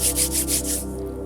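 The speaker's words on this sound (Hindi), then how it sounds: "अपने हाथों को रब करते हुए" Hands rub together briskly during a meditation, producing about five rhythmic, close swishing strokes that fade out after roughly a second.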